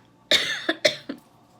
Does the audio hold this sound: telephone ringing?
no